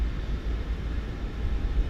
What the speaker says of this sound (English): An airplane taking off on 2-1.